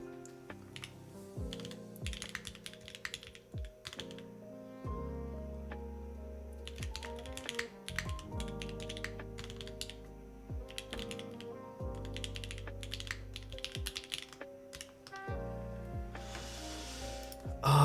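Typing on a Sonnet mechanical keyboard, with steady clacking keystrokes in irregular bursts across the whole stretch, fairly close, over a faint background of music.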